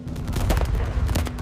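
A dense volley of loud, overlapping gunshots and booms, rapid irregular blasts crowding together with no pauses, like massed rifle and artillery fire in a nineteenth-century battle.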